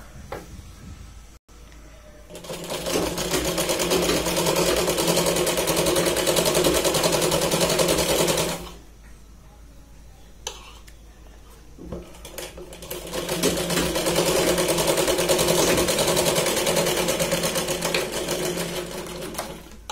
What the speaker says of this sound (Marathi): तर आपण ते सरळ शिलाई लावून घेऊया खालच्या पार्टला।